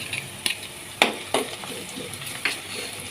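Onions frying in a pan of oil with ginger garlic paste just added, for a ridge gourd sabji: a steady sizzle broken by a few sharp clanks and scrapes of stirring.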